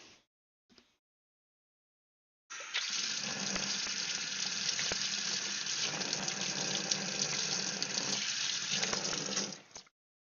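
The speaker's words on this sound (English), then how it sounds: "Start squirting water out the one end." Water squirts from a hose in a steady, hissing gush for several seconds, fairly close. It starts abruptly after a few faint knocks and then stops.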